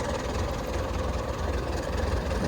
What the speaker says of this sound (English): here under the hood, you can see the original inline 4-cylinder motor chugging away here.